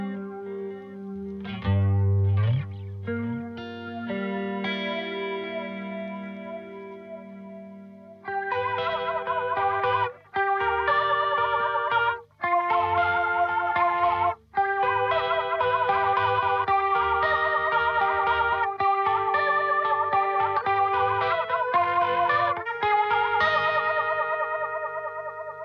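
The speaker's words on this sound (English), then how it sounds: "you can get close to all of those sounds with a flanger because it's such a versatile effect" Electric guitar run through a purple flanger pedal with speed, depth, pre-delay and feedback controls, giving a swirling, sweeping comb-filtered tone over sustained chords and picked notes, loud and continuous with a few brief gaps.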